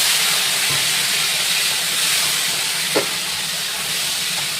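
Potatoes and drumsticks go into a hot pot and sizzle, a steady close hiss of frying that runs evenly throughout, with a brief soft knock partway through.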